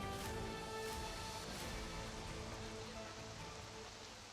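Steady, dense heavy rainfall hissing continuously over surfaces at King's Circle, faint and even throughout with no pauses.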